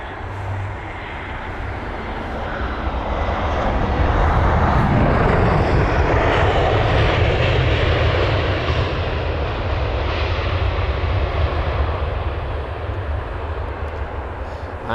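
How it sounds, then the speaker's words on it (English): Aer Lingus Airbus A320 jet landing at London Heathrow, a loud broad engine roar that swells around four seconds in and holds steady as the airliner passes close, fading slightly toward the end. "The Aer Lingus A320 this is."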